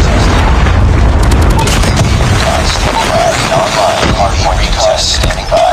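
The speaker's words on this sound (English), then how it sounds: "Friendly predator missile inbound." A predator missile detonates in Call of Duty Mobile multiplayer, a loud, deep boom with rumbling debris, followed by scattered gunfire and game announcer voices.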